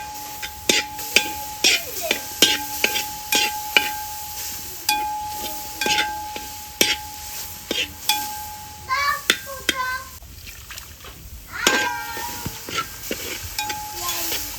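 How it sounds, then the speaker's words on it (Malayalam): Chicken biryani masala is stirred in a pan, with repeated clicking and scraping of a spoon against metal over a soft background sizzle. A person talks throughout. "ഇതേ നല്ലപോലെ ഒന്ന് ഇളക്കി കൊടുക്കാം."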